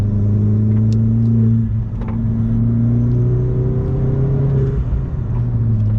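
A 2011 Opel Corsa GSI with a stage 1 tune and turbo, accelerating with a steady mid-pitched engine drone that climbs in pitch through the gears, loud and close from inside the car.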